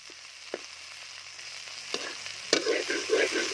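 Mole crickets and other insects frying in oil, starting as a quiet sizzle with a few clatters, then swelling into loud, bubbling, crackling spatters close by, with no talking.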